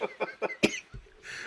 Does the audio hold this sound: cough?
yes